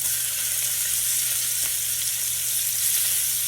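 Food sautés in olive oil in a pan, making a loud, even hiss of sizzling that holds steady from start to finish, with no speech over it.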